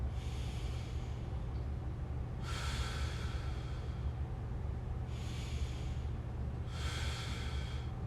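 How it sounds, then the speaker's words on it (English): Three slow, deep breaths taken during a t-spine and shoulder mobility exercise, each a soft airy hiss lasting about a second, close and fairly quiet over a steady low background hum. "So we take a nice deep breath in."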